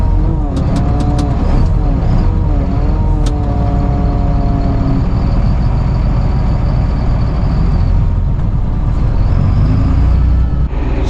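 A farm tractor pulls away in 12th gear, its loud, close engine roaring with a rising, shifting drone that holds steady for several seconds.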